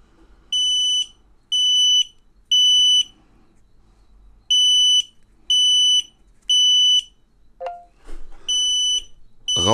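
An X-Sense XS01-WT WLAN smoke detector sounds its alarm in loud, evenly spaced high-pitched beeps in groups of three, with a short pause between groups and brief handling noises near the end.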